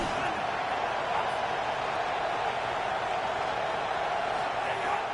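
Steady stadium crowd roar from an NCAA college football video game, a dense continuous wash of cheering at constant loudness with faint talk mixed beneath.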